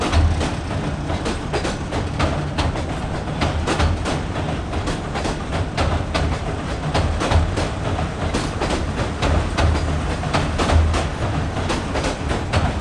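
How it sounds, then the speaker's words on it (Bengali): A commuter train rolls steadily across the Kawraid-Goyeshpur rail bridge near Mymensingh, with continuous rumbling and rhythmic clickety-clack of wheels over the rails, loud and close throughout. "ময়মনসিংহে প্রবেশ করতে যাচ্ছে কমিউটার ট্রেনটি"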